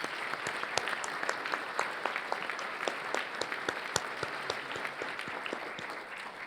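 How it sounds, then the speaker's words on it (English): A breakfast-forum audience claps for the event sponsors, a moderate burst of many hands, fairly distant and even, fading slightly toward the end. "if you would you give a big round of applause to our sponsors?"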